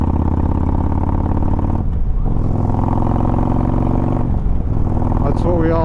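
A Harley-Davidson motorcycle engine riding in normal mode rumbles loudly and close, with deep, throbbing revs that dip briefly twice as gears change, then pull again.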